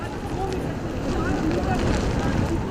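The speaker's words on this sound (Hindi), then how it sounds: "चाहे वो समुद्र की ऊंची लहरों की आवाज़ हो, चाहे वो जो तेज़ हवाएं इस वक्त चल रही हैं उसकी आवाज़ हो" Strong winds and high sea waves from Cyclone Yaas roar as a dense, continuous rushing noise, loud and unbroken, like gusts buffeting the microphone over heavy surf.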